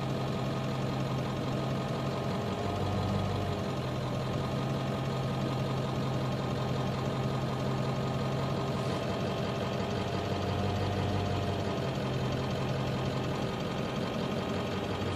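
Car engine idling in drive at a steady low rumble, close and continuous, with faint periodic bumps and slight dips in the hum and no talk over it.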